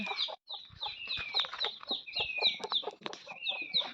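A hen and her chicks in a garden in Konkan cluck and chatter busily, with overlapping short calls from several birds close by.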